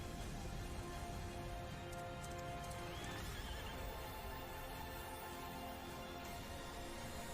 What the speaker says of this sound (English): A stallion.